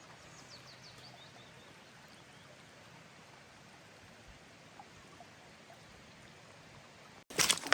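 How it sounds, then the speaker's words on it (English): Gentle flowing water from a stream near an old quarry on a hike, a soft continuous wash with a few faint bird chirps early on, ending in a sudden loud burst of noise. "Listening to the flow of the water"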